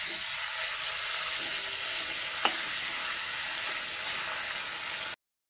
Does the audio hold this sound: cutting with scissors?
no